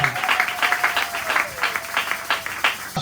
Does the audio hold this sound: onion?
no